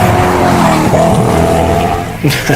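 A Koenigsegg Agera mid-engine supercar accelerating hard, its engine note rising in loud, close pitch sweeps with tyre squeal, ending in a sharp shift or burst of revs.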